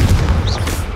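A single fire spell explosion in the Hogwarts Legacy video game, a loud, dense boom that holds for about a second with a brief whooshing flare through it.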